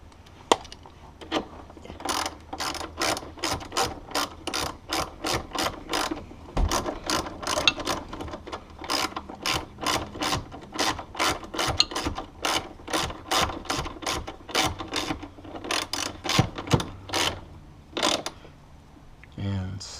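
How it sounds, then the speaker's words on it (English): A hand ratchet tightens a 13mm nut on the hood release of a 2005 Silverado SS, giving a long run of rapid, evenly spaced clicks close up with brief pauses between strokes. "Put the 13mm nut back on."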